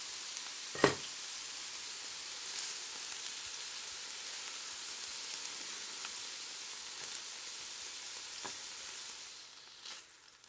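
Turkey pieces browning in a pan for a Hawaiian turkey stew give a faint, steady sizzling hiss, with a sharp clink near the start and a few soft knocks later; no one speaks.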